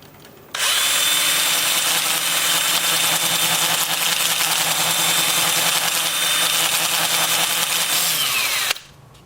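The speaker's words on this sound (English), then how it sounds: "I'll change to my 2-inch disc sander at 80 grit to do the inside" Two-inch disc sander with 80-grit paper working the inside of a black cherry turned bowl, a loud high-pitched motor whine with gritty abrasive hiss that starts abruptly, holds steady for several seconds, then winds down.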